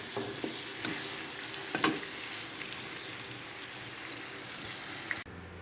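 Longganisa sausage sizzles steadily in a pan, a soft continuous fry with a few sharp pops and stirring clicks, heard close and alone until it cuts off near the end.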